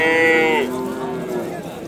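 A cow at a livestock market where young bulls and heifers are sold gives one long, loud, low moo close by, trailing off after about a second over the faint background din of the market.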